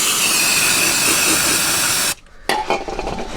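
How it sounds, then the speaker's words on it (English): An aerosol can of brake cleaner sprays a loud, close, continuous hiss onto a leaking shock absorber of a 2007 Ford Ranger Thunder pickup, then cuts off abruptly, followed by a short second burst and rustling. "Just get some brake cleaner"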